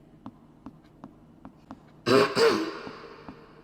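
A single harsh, throaty cough bursts out loudly midway, following a few faint rhythmic ticks, then fades quickly.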